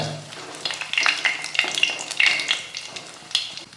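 Dried red chillies fry in hot oil with mustard seeds and green chillies, a close, lively sizzle full of irregular crackles and spitting pops with occasional pan scrapes, no voices.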